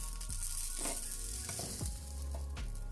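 Food frying in a pan at a home breakfast stove, with a steady close sizzle and a few clinks and stirring scrapes over it, no talking.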